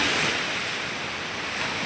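Sea waves wash in at Marina Beach as a broad, continuous roar of surf, close and fairly loud, with some wind buffeting the microphone and no voices.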